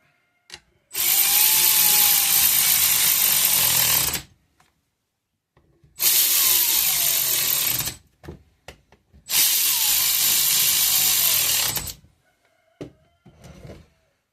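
Power wrench with a 12mm socket tightening bolts on a Polaris Indy snowmobile engine whirs loudly in three sustained bursts of a few seconds each, close up, with quiet gaps and small clicks between them.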